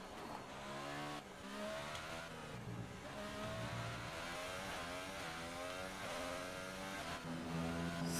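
Formula 1 race car engine in the video game F1 2018, a steady loud high-revving whine with shifting pitch through gear changes, continuous for the whole stretch with no pauses.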